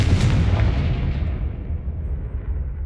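A loud, close explosive blast from the Confringo spell in the Hogwarts Legacy video game: a single booming burst that rumbles and fades out over about three seconds.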